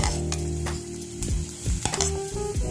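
Tomatoes and capsicum sizzle loudly in a pot of one-pot pasta base with garlic and onion, stirred with steady scraping strokes and a few utensil clinks, no talking.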